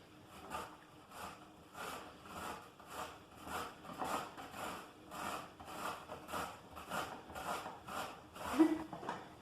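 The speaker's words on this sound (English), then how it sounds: "I'm going to grate a courgette." Courgette rubbed against a grater, steady rhythmic rasping strokes about one per second, close and moderately loud with no talking.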